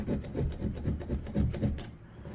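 Scraping softened emblem adhesive off the body of a 2000 Toyota Tundra, a series of close, rhythmic rubbing strokes about two per second that stop near the end.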